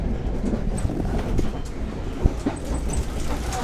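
A passenger train rides on its rails, heard from inside as a continuous rumbling roll with occasional clicks and knocks, fairly close.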